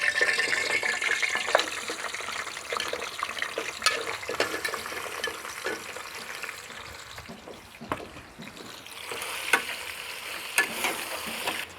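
Mutton on the bone searing in a pot with freshly toasted masala, a steady loud sizzle with stirring and scraping throughout, flaring in brief crackling bursts.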